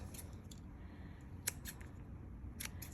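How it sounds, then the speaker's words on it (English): Scissors trimming the edges of paper for a handmade Stampin' Up! shaker dome card, giving a few sharp, quiet snips spaced across a soft, steady room background. "now we're just going to trim off a few of these edges"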